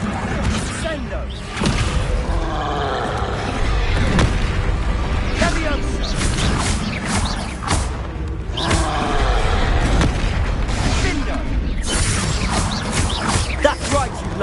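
Explosive spell blasts from a Hogwarts Legacy duel, a series of booming thuds and bursts with whooshing casts, loud and repeated across the fight amid game sounds and music.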